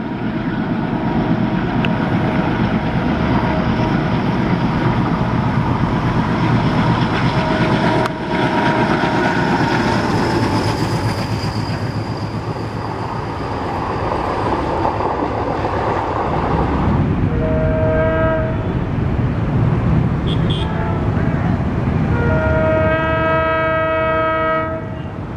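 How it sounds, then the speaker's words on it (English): Indian Railways trains curving past near a hillside, a long loud rumble of wagons rolling by, joined near the end by several blasts of a train horn. "enjoyed the trains curving by"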